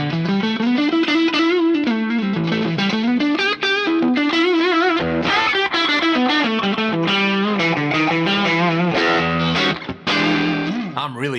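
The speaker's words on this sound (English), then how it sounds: "I really like this concert hall reverb on here. I like it quite wet." Electric guitar played through a Fractal Audio Fullerton amp plugin with a wet concert hall reverb, a sustained melodic line with bright harmonics and a lush, spacious tail, steady and loud throughout.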